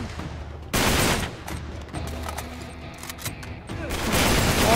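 Bursts of gunfire from the video game Uncharted 3, a loud sharp volley followed by a scattered run of shots and a heavier sustained spray at the end, fairly close.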